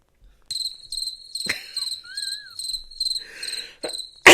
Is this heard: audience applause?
no